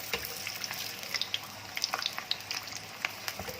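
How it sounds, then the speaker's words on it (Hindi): Chicken spring rolls fry in hot oil, a continuous soft sizzle broken by scattered sharp pops and crackles, close and moderately quiet, with no voices. "अब हम आपको इसको फ्राई करके बताते हैं"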